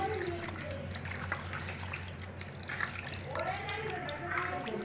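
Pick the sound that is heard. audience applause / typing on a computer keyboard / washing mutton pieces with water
washing mutton pieces with water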